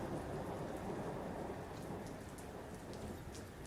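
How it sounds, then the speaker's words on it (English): Rain and thunder ambience plays steadily throughout, a dense wash of rainfall with low rumbling, heard through headphones during a Titanfall 2 gaming session. "I have the fake rain sounds in my ears"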